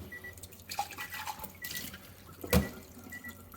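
Water runs from a Kangen K8 water machine with the valve opened fully during a cleaning flush, a steady low splashing flow with a brief louder gush partway through.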